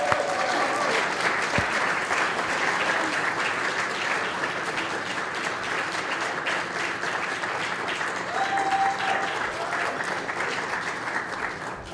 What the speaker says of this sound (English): I'd really like to give a warm applause to Lisa